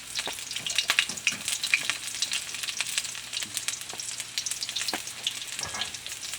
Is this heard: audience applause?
no